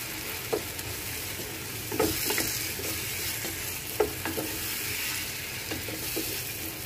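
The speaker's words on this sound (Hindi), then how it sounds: "बैंगन तो पूरी फ्राई होने में ही पक चुके हैं ना तो इसलिए बस इसको मसाले मिक्स होने तक हम पका देंगे" Fried eggplant cooks with spices in a pan, giving a constant soft sizzle broken by several sharp scraping stirs of a spatula, close and fairly quiet.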